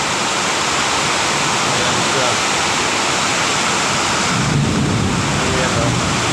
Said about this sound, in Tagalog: Napakalakas ng ulan, biglang buhos